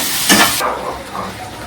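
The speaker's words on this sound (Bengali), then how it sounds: "আস্তে আস্তে গ্যাসটা ফ্লেমটা স্লো করে ভেজে নেবো," Mustard paste with tomato fries in oil over a low gas flame for a fish curry, a close, loud hissing sizzle with a brief sharper burst of steam that settles into a steady fry.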